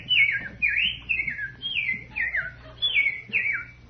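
A person whistles an imitation of a bird call: a run of about eight short, falling, chirpy whistled phrases in a steady rhythm, close and fairly clear over a low background hum.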